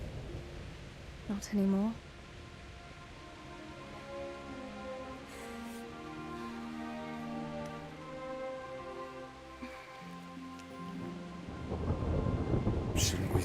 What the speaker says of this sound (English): Not afraid of thunderstorms,